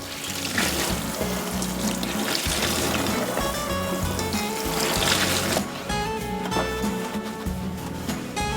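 Tap water runs steadily into a kitchen sink during rinsing, a continuous close splashing rush with faint clinks, with no talk.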